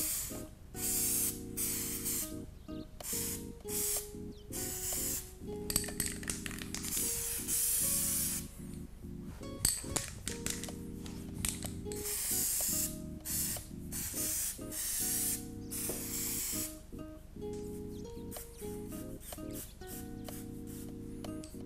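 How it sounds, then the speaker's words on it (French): A spray can of chocolate coating hisses in long continuous bursts with short pauses while it coats a chocolate and blueberry Yule log cake, close and steady with no speech. "je vais bien remuer ma bombe à spray et je vais l'appliquer donc sur ma bûche au chocolat"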